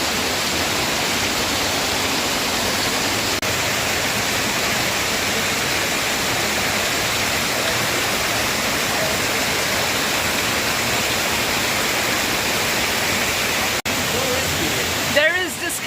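Steady, loud roar of a waterfall near Rauðfeldsgjá Gorge in rainy weather, a continuous close wash of falling water that dominates throughout.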